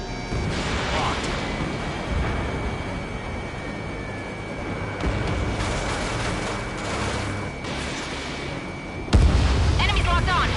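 A missile explodes in the jet combat game Ace Combat 7, a heavy boom landing near the end over a continuous roar of engine and battle noise, with radio voices talking throughout.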